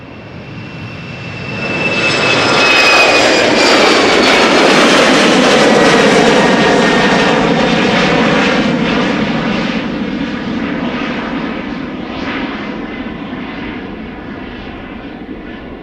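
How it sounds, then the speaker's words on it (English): A KLM Embraer 190 jet, fifteen years old, takes off at Schiphol Airport, its engine roar swelling within two seconds into a loud, sustained rumble with a high whine, then slowly fading as it climbs away. "It's an Embraer 190 to Dublin, KLM flight 1139."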